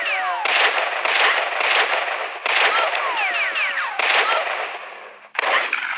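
Rapid gunfire rings out in the Western shooter game High Noon 2. Loud bursts of shots repeat in quick clusters with brief gaps, and whistling ricochet-like sweeps run through the volleys.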